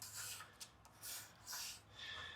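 Pencil marking a line on wood during a cabinet build from an old buffet, several short close rubbing strokes with brief gaps, no talking.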